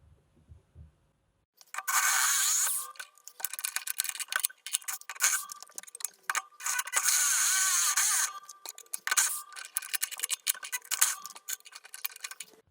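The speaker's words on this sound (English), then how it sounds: "So I'm just going to clip this in the vise and widen it out." A metal mounting plate is clamped in a vise and worked wider, giving bursts of harsh scraping and grinding broken by sharp clicks and ticks, loud and close, with short quiet gaps.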